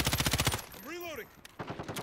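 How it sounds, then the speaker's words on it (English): Automatic gunfire in the video game Modern Warfare: rapid rattling bursts at the start and end, separated by a short whooshing sweep in the middle. "We're taking fire."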